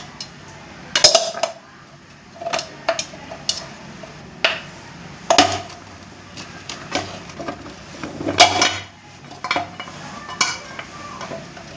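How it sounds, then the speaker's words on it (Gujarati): Leftover broken ice pieces drop and tumble into a metal pot, making irregular clinks and knocks spread over several seconds against a quiet room, with no talking. "વધેલા ટુકડા બહાર નાખી દઈશું તપેલીમાં."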